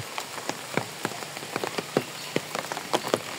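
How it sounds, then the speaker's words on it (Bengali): Rain falls on a quiet village road, a soft steady patter with many close, distinct drips landing at irregular moments. "এই বৃষ্টি হইতেছে"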